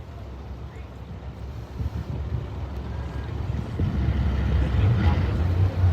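A racing boat's motor drones low and steady at a distance, building gradually toward the end, mixed with wind buffeting the microphone.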